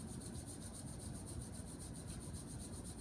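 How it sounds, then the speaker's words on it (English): Palms of the hands rubbed together during a gentle chair yoga session, a steady quiet rasping friction with a regular back-and-forth pulse, heard alone. "just taking the palms of the hands, beginning to rub them together, creating a little bit of friction and heat"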